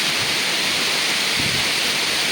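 Roadside waterfall in Semenyih, Malaysia, pouring as a steady, loud broadband rush that fills the whole clip with no other sounds.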